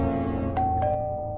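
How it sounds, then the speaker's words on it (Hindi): A two-tone ding-dong doorbell chimes once at a house door, bright and close, ringing out over a low sustained musical drone in a horror animation. "दरवाजे की घंटी बजी।"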